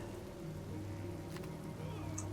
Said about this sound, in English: I very much dislike this acid rain.